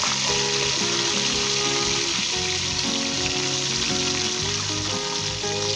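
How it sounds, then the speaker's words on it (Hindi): Onion, garlic, ginger and green chillies fry in vegetable oil with a steady, dense sizzle and some stirring, heard close with no talking. "और इसे 2 से 3 मिनट के लिए हम फ्राई करेंगे।"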